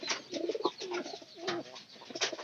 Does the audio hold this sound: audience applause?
no